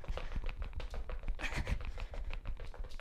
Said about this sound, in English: Sound like I'm tap dancing.